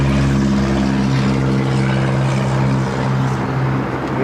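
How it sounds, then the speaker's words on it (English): A Frontier Airbus A320neo airliner at LAX roars steadily nearby, a loud sustained engine drone with a strong low hum and broadband whoosh that shifts slightly as it passes. "That was Frontier Cortez, the green turtle livery, flight 1755, coming up from Houston on an A320 Neo."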